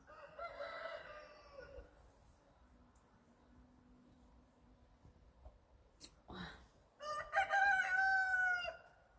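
A rooster crows at a distance in a foggy forest area in Zakarpattia, Ukraine, first faintly and then again louder near the end, with a few soft clucks and quiet background in between.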